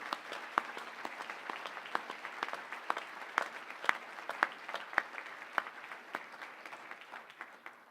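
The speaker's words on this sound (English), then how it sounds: "one last round of applause and congratulations" A seated audience at a Class Night ceremony applauds student award winners and a professor, steady dense clapping that fills the room and stays loud and even throughout with no talking.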